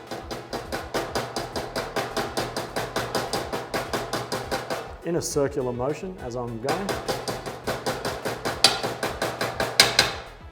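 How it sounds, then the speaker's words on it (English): A hammer lightly taps a bush into place on a clamshell arm. The metallic taps are quick, regular and evenly spaced, pause briefly while someone speaks, then resume at the same steady rhythm. "then lightly tap it in with a hammer"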